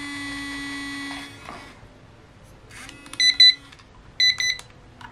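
A Samshow digital kitchen timer alerts, with a steady electronic tone, then a pause and two short bursts of rapid, clustered beeping, close and loud with no talk.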